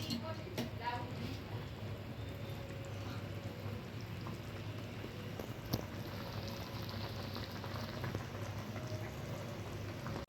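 Dudhi muthiya steam in a pot on the stove with a soft, steady bubbling and hissing that sounds like light rain, quiet throughout, with a single faint clink.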